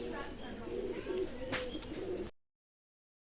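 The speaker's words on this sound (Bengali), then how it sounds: "চমৎকার চমৎকার টেডি কবুতর" Mysore Nila Kamagar teddy pigeons coo at a pigeon loft in Bangladesh, giving a run of soft, low, repeated coos at close range that stops abruptly into silence.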